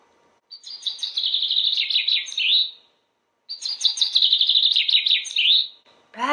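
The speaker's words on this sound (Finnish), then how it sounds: "Lintuset lenteli riemuissaan." Birds sing on Easter morning, two long, bright, trilling song phrases close by separated by a pause, with no talking.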